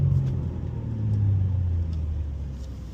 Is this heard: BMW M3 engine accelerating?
yes